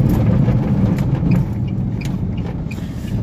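An Aixam GTI microcar accelerates flat out, its small engine giving a loud, continuous droning rumble with a steady buzz that eases slightly partway through, heard alone.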